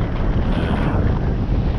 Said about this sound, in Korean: 가스트는 세게 중간중간 올라오고 있어요.